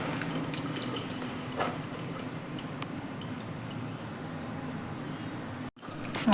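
Water sloshes and runs as tamarind is rinsed and strained, a steady wet trickle close up with faint squishing and clinks, briefly cut off near the end.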